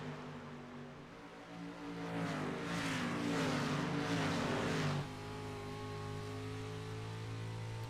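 Dirt track race cars on the Eldora Speedway oval roar through turns 3 and 4, with loud engines swelling as they pass and then settling into a steady, sustained drone.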